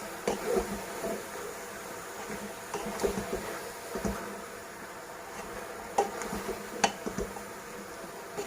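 Bottle gourd (lauki) stirred in a cooking pot for a Sindhi-style sabzi, with soft scrapes and occasional spoon clinks against the metal over a low background hum.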